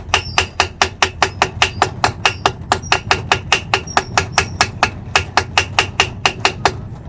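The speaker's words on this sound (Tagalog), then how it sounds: "pupukin lang ng martilyo." Rapid, steady hammer blows on metal, loud and close, knocking off a dried engine gasket, in a long regular series with only brief pauses.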